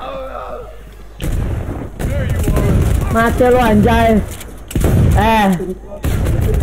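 Explosion and gunfire in a Predator hunting video game, heavy booming blasts and bursts of shots with sharp onsets, under excited talk from a player.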